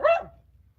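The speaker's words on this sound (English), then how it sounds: "Barking at my cat." A dog gives one sharp, close bark at a cat, a brief loud burst that quickly fades into quiet low room hum.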